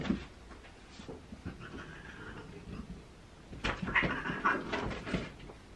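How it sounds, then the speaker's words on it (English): Two cats fight each other nearby, a scuffle of hissing, yowling and thumping bursts that grows louder and more frantic in the second half. "My cats are literally beating the crap out of each other."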